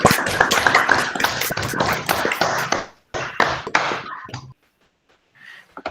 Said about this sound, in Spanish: abramos nuestros micrófonos y le brindemos un fuerte aplauso